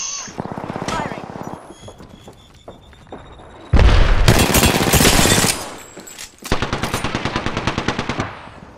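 Video game gunfire crackles in rapid automatic bursts, with a heavy booming barrage in the middle and a final rhythmic volley, loud and close, while a player's voice talks over parts of it.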